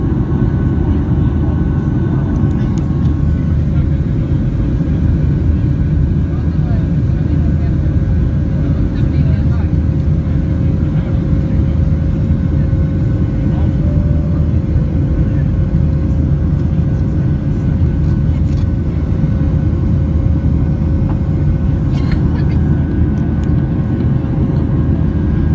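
Cabin of a Ryanair Boeing 737-8AS(WL) jet during takeoff and climb out of London Stansted bound for Stockholm; a loud, steady low engine roar fills the space with faint intermittent clicks and no change in level.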